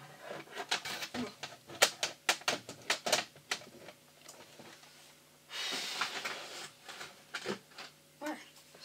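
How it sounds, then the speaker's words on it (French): A paper trimmer slicing cardstock for a handmade card gives a series of quick, close clicks and scrapes, followed by a longer rasping slide of the blade, then a few more clicks, with no talk over them. "le massicot qui veut pas m'écouter"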